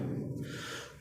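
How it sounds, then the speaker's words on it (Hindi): A short, harsh cough close to the mic, with no talking. "सॉरी खांसी आ रही है"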